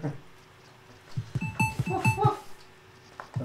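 A person imitates a dog barking with a series of short, loud yelping barks in quick succession, close up and alone, during a casual game session of Breaking Bricks.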